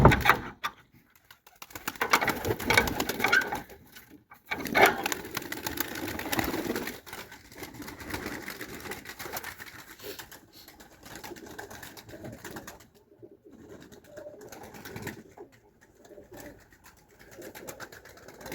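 Racing pigeons coo softly in a loft, a steady murmur of low calls with shuffling and rustling, louder in the first seconds and then settling to a quieter background.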